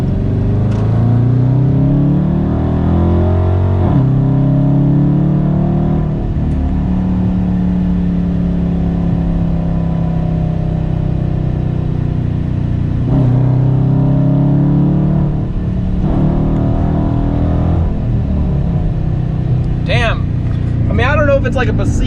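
A 2019 Dodge Charger R/T Plus fitted with an aFe cold air intake accelerating hard: a loud, close engine roar rising through the gears, with a shift break and another climbing pull, steady and uninterrupted.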